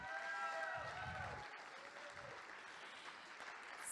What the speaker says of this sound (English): Let's have another round of applause for our speakers.